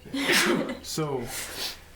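A single short, sharp sneeze bursts out near the start, followed by a brief spoken word and a breathy exhale.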